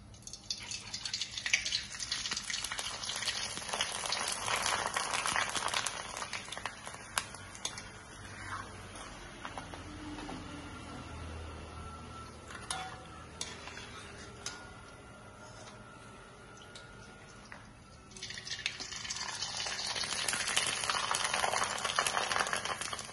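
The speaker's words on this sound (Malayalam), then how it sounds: "അപ്പൊ നമുക്ക് ഇനി പപ്പടം ഇട്ട് കൊടുക്കാം." Homemade rice pappadam frying in hot oil, a steady close sizzle and bubbling that swells, eases off midway, then builds again, continuous and moderately loud with no talking.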